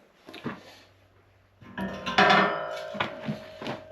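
A metal middle buster piece slides into a welded 3-point rake frame for a Kubota B2601, giving scraping clanks and knocks in short bursts around a quiet pause, close and fairly loud.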